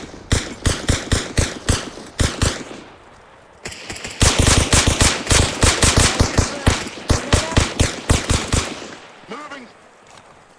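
Automatic gunfire in the military shooter Arma Reforger rattles out in loud, close bursts of rapid shots, with a short pause before heavier sustained fire. A voice briefly calls out between volleys.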